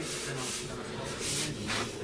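Soft rhythmic rubbing strokes of sandpaper on a car body panel, several back-and-forth passes in a row, close and fairly quiet.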